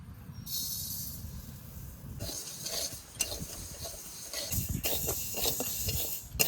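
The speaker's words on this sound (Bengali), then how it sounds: "প্রথমে আমি মুগ ডালটা ভেজে নেব" Mung dal dry roasting in a pan, with scraping, rustling stirring strokes and the grains shifting against the metal, in fairly close, moderately loud bursts that come and go.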